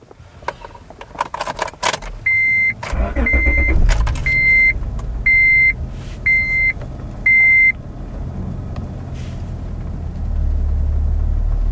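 A car being started, with key jangling and engine turning over, then a tire pressure monitor accessory giving six evenly spaced electronic beeps over the idling engine.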